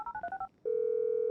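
Phone dialing in Grand Theft Auto V video game: five quick electronic keypad tones in a rapid run, a brief pause, then a steady continuous ringback tone.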